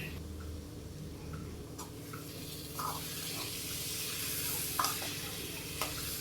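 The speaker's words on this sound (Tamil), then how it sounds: "இப்போ கட் பண்ணி வச்சுருக்க முருங்கைக்காயை சேர்த்து நல்லா வதக்கிக்கலாம்" Drumsticks sauté in a pan for a drumstick thokku, a soft, steady sizzle with occasional stirring scrapes and clicks, quiet and close, with no talking.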